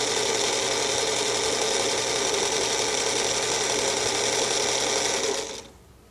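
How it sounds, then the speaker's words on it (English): Sewing machine running steadily while stitching quilt squares one after another in assembly-line fashion, a continuous close mechanical whir with rhythmic needle chatter that stops abruptly near the end. "I'm just assembly line sewing these"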